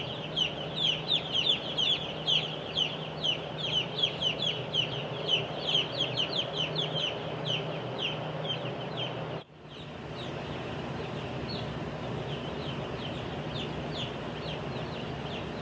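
Broiler meat chickens inside a straw-bedded farm shelter cluck and chirp in a dense, continuous chorus, with a brief dip in the sound midway before the flock noise resumes.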